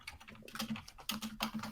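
Fast, intense typing on a computer keyboard: a quick clatter of key clicks in uneven bursts, close and moderately quiet, with no talking.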